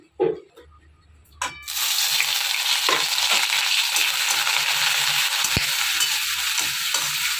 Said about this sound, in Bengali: তো এই যে এখন কড়াই বসিয়ে দিয়েছি, এখানে তেল দিয়ে দিলাম।